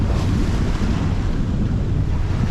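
Ocean waves rushing against a sailing yacht beating to windward in the Pacific, a loud continuous roar of water and wind buffeting close to the microphone.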